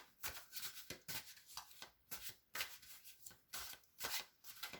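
Tarot cards shuffled by hand for a reading, a rapid series of soft riffling, papery bursts repeating in an uneven rhythm, close and quiet with no talk.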